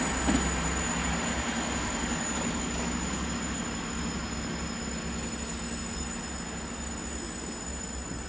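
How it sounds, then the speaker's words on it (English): A British Rail Class 166 diesel unit, 166208, pulls away from Exeter St Davids station. It makes a steady, mid-level rumble and hum that holds evenly throughout, with no speech. "We got the 166208 now going out to Exeter."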